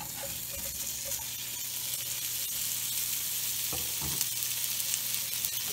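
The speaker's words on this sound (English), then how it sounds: "I'm going to saute this bacon right in the soup pot." Steady crackling sizzle of bacon sautéing in a soup pot, with a couple of scraping stirs near the end.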